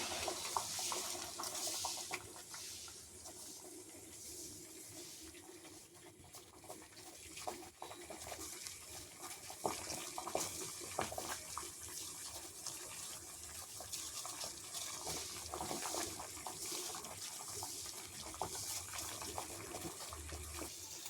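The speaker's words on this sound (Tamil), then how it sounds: "தண்ணி நல்லா கொதிக்க ஆரம்பிச்சிருச்சு." Water boiling in a pot for hibiscus flower soup, a quiet, continuous bubbling and rushing texture that holds steady throughout with occasional small pops and no talk.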